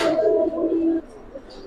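Pigeons at a pigeon farm give a few soft, throaty coos close by, with warbling notes in the first second and then quieter murmuring.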